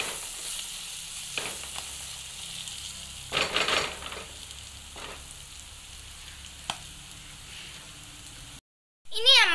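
Wilted onions and curry leaves being stirred in a frying pan for egg curry, a soft sizzle broken by a few louder scraping strokes of the spoon, then a brief silence and a sharp burst at the end.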